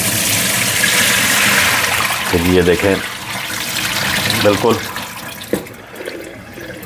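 Cold tap water pouring over boiled noodles as they drain in a kitchen, a steady splashing rush that fades partway, with someone talking over it.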